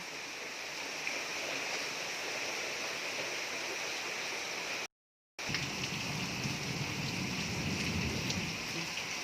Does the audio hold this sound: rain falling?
yes